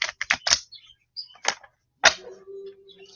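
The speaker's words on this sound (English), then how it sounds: "I will shuffle some cards for you" Tarot cards being shuffled up close: a quick burst of crisp riffling snaps, a pause, then two more separate flutters with a faint lingering tone, no talking.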